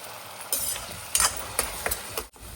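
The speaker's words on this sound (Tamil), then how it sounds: "இந்த மசாலா வந்து லைட்டா பச்சை வாசனை போற வரைக்கும் நல்லா வதக்கிடலாம்" Ground masala paste sautéing with curry leaves in hot oil, a steady sizzle punctuated by several sharp spoon scrapes and stirs in the pan, close and moderately loud with no talking.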